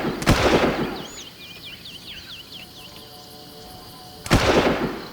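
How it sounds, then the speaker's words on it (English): In the Far Cry video game, a machine gun set to single-shot mode fires two sharp, loud shots about four seconds apart, with faint insect chirping in the quiet between them. "Single shot mode on the machine gun."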